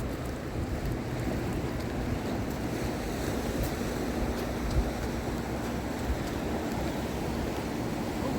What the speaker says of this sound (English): Waves are rough, boy.